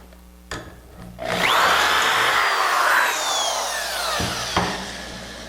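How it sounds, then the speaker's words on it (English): A power drill bores the final dowel hole into wood for a mitered dowel joint on an entryway table drawer, a loud sustained whir with rubbing grind that starts after brief clicks and runs steadily for several seconds. "and then drill your last hole."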